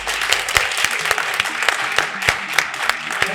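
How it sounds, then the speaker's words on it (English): Loud, dense applause from a live conference audience, sustained for the whole stretch with sharp individual claps peaking throughout and no one speaking over it. "we're just going to clap as loud as possible for you, for me, and for Sami"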